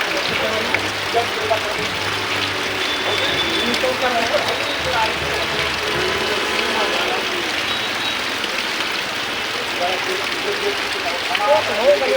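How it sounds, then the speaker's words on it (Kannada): Heavy rain pours steadily over Bisalakoppa, a dense, continuous hiss of downpour that holds at an even loudness throughout, with faint voices and other background sounds mixed beneath it. "ಇದೇ ರೀತಿಯಾಗಿ ಬಿಸಲಕೊಪ್ಪದಲ್ಲೂ ವ್ಯಾಪಕವಾಗಿ ಮಳೆ ಸುರಿಯುತ್ತಿದ್ದು"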